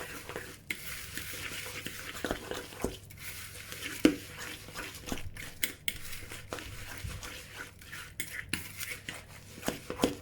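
Raw eggs and butter mixed together in a bowl for chilli and cheese flapjacks, a quiet, uneven run of spoon scrapes and taps against the bowl, with no talk.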